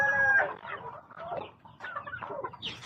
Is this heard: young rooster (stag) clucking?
yes